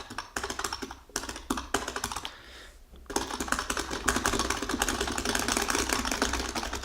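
Rapid keyboard typing, dense clicky keystrokes close up, with a brief pause before resuming at a steady, busy pace.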